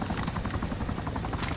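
In the survival video game DayZ Epoch, a helicopter overhead gives a steady, loud rotor thump and engine roar filling the whole short moment, with no talking.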